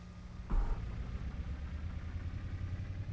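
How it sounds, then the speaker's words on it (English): Truck engine idling in the Scrap Mechanic video game, a steady low, throbbing rumble that holds evenly throughout after a brief louder bump at the start. "This sounds like it's a mix between a motor and an engine."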